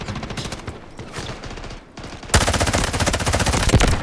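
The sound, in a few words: gunfire in the video game Delta Force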